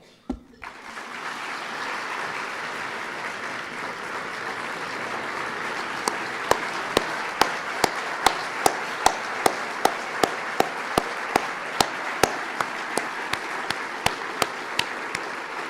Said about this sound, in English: one that deserves a standing round of applause for Barack Obama and his entire team who've been working on it from day one.